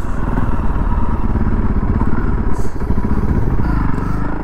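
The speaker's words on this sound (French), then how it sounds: "nous reprenons les motos pour remettre le cap sur Nîmes" A Honda CRF300L motorcycle engine runs loud and steady at close range on an off-road ride on stony trails, with a throbbing low rumble and occasional clatter from the ride.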